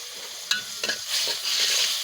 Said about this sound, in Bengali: তরকারি বসানোর জন্য কড়াইতে পেঁয়াজ দিয়ে দিছি